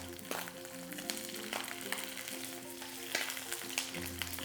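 Pork belly pan-frying and being flipped to brown both sides for a Hakka braised pork with dried mustard greens, giving a steady close sizzle with crackling pops and a few utensil clicks throughout.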